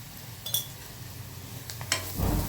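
Masala fries in a pan and gets stirred, giving soft sizzling under a few sharp clinks of a spoon against the metal, followed by a louder scraping burst near the end.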